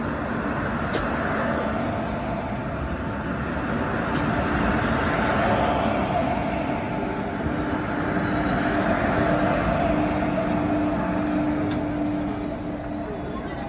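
The Mumbai LTT to Kakinada Port Express runs out of Lonavala with a continuous broad rumble and steady drone, a faint tone rising near the end, moderately loud throughout.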